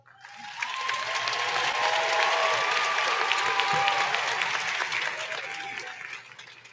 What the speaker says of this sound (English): Can this lovely class get a round of applause?